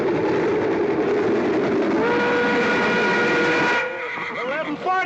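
A steam train arriving on time at 11:40, a loud continuous rumble of wheels and chuffing with a long sustained whistle blast midway, ending in a quieter stretch with speech.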